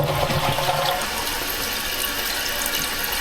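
Toilet tank refilling through a Fluidmaster PerforMAX fill valve in a Delta toilet, a steady close hiss and rush of running water that continues evenly throughout.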